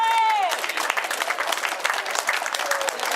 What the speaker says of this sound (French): Les applaudissements pour le meilleur grimpeur de l'édition 2013